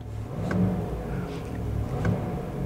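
A 2024 GMC Sierra AT4 pickup with a 6.2-litre V8 and dual-stage exhaust revs in two short bursts, a low rumbling engine swell around each blip over a steady idle, recorded up close with no talking.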